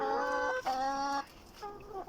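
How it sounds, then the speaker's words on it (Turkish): A rooster gives a few short harmonic calls, one burst after another with a brief pause, nearby and unaccompanied by talk. "Horoz."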